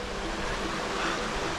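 A river rushes through snowy woods as a steady, dense wash of flowing water, close by and unbroken, with no voices.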